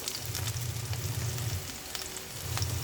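Onion sizzles with garlic in a pan, a steady close frying hiss with soft crackles and a low bubbling hum underneath.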